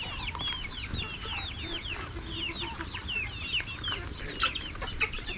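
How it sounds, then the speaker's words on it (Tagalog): Several chickens cluck and chatter continuously nearby at a fishpond, with overlapping calls and a few sharper squawks. "Nakalabas yung mga manok natin."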